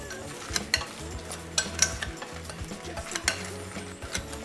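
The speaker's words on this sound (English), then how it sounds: "And I'm gonna give that a good toss." Chicken wings tossed and stirred in sauce in a pan or bowl, giving a steady run of close, wet stirring clatter with faint sizzle and no talking.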